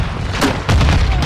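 A grenade goes off in Call of Duty: Modern Warfare 2 amid a rooftop firefight, a heavy close boom breaking through ongoing gunfire and rumble, loud and brief.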